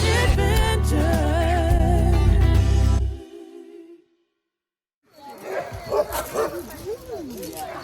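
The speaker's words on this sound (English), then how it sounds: "We're here today at Turning Head Kennels, and we're meeting the dogs today." Sled dogs at Turning Heads Kennel in Alaska bark and whimper close by. A loud burst gives way to a short silence, then excited yips and whines return.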